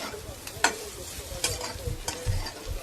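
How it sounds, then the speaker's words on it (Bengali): Potato and bitter gourd with chilli flakes being stirred in a pan over low flame, a soft steady sizzle broken by several scraping stir strokes and light clatters, close and moderately quiet with no talk. "চিলি ফ্লেক্স দেওয়ার পরে ভালো মতন নাড়বো"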